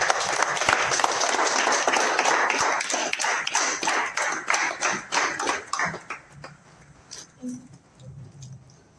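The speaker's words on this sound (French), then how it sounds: "Applaudissez papa" An audience applauds a father figure at a French-speaking gathering: dense clapping that thins into scattered, distinct claps and dies away near the end, with a faint voice at the close.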